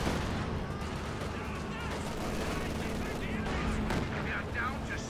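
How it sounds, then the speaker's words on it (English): Mortar impacts and gunfire from the video game Company of Heroes 2 make a dense, steady battle din of crackling shots and thuds, with a commentator talking over it throughout. "So the fresh mortar will go down."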